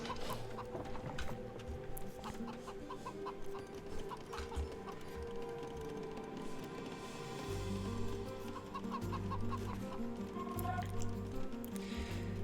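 Chickens clucking in the Age of Empires strategy game, with faint clucks mixed among mechanical game sound effects and background music, fairly quiet.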